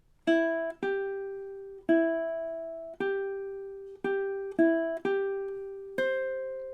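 Ukulele plucking a phrase of the Day-O Jamaican folk melody, about nine bright single notes in a steady, lilting rhythm, each decaying quickly, played close and alone.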